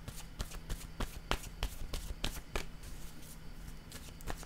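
Tarot cards being shuffled and handled: a run of crisp, snappy card flicks and riffles at an irregular rhythm, close and fairly quiet, with no talking.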